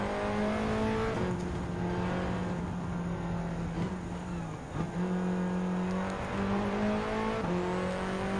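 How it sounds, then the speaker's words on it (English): A 2017 Alpine A110 engine in Gran Turismo 7 hums steadily and rises through revs, shifting gears several times as it climbs in pitch, loud and continuous with no talking. "Just have to go rev it up a little bit."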